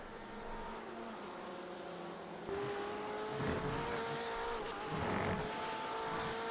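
A BMW GTE race car in a sim racing game at Virginia International Raceway, its engine revving and shifting through gears with whining rises, steady and fairly close, with brief tire noise.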